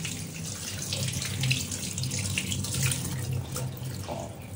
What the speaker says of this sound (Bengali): ম্যাডাম এখানে মাছ ধোয়া দিতে ব্যস্ত।